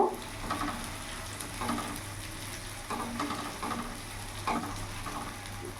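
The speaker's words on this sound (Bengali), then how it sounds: "ভালো করে নাড়াচাড়া করে নেব।" Loitta (Bombay duck) fish with ginger, garlic and chili paste is stirred in a pan over a continuous low sizzle, with soft periodic scraping strokes about once a second and a faint steady hum beneath.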